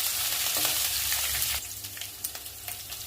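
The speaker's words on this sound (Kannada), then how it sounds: "ಅದನ್ನು ಮಿಕ್ಸ್ ಮಾಡಿ ಸ್ವಲ್ಪ ಹೊತ್ತು ಫ್ರೈ ಮಾಡಿ" Grated ginger sizzles in hot oil in a pan while being stirred for an Indian aloo palya, with a loud steady frying hiss followed by scraping stirs that break up the sizzle.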